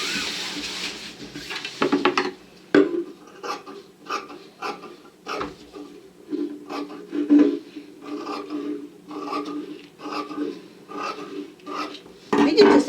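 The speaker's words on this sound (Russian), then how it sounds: "я сейчас вырезаю полностью кромочку" Scissors cut along the selvage of vest fabric on a table in a series of close, crisp snips and rustling slides of the blades through the cloth.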